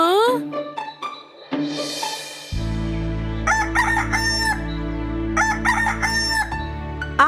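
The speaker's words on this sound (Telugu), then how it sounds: "మరునాడు ఉదయం కస్లీ కోడి కోసిన శబ్దానికి నిద్రలేచాడు" A cartoon rooster crows at dawn, several loud drawn-out cock-a-doodle-doo calls close up over a sustained musical backing, with a short clucking bird call at the start.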